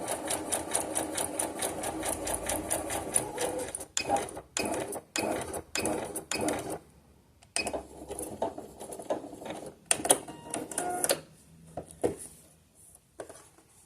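A domestic sewing machine stitches knit fabric at medium-slow speed, running in a steady rapid mechanical patter, then stopping and starting in short bursts with brief pauses.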